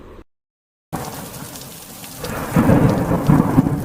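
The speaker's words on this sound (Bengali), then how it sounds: "রাত্রে প্রবল জোরে বৃষ্টি পড়তে থাকে" Heavy rain falling at night with thunder, opening with a brief hiss and then a short dead silence before a dense downpour surges back and swells into a louder, rumbling roar.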